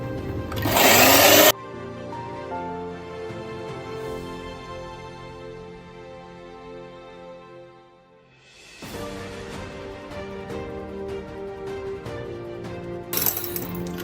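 An electric mixer whips chantilly cream for an eggless tiramisu with a steady, whining motor hum. The hum dips and pauses briefly partway through, then resumes, and a louder burst of noise sounds at the start and end.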